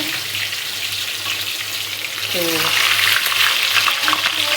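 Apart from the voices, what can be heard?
onions frying in oil for saag tempering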